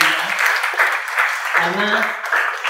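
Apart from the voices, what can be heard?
audience applauding loudly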